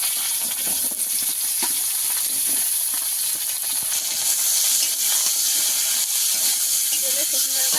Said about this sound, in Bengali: তেলের মধ্যে সরষে ডাঁটা দিয়ে দেবো।